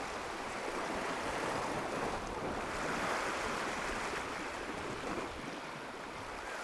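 Strong wind roaring steadily over the sea during a fishing outing, a broad continuous rush with surf-like noise buffeting the microphone throughout.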